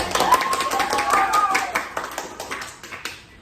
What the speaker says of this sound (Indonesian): coba anak-anak tepuk tangan